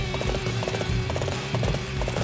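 Horse hooves gallop in a fast, regular rhythm in the video game Dynasty Warriors 8, loud and close over a droning game background.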